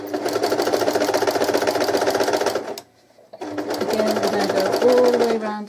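Sewing machine stitching fabric for a shirt cushion, a loud steady rapid mechanical whir that stops briefly near the middle and then resumes for the reverse stitches and forward run.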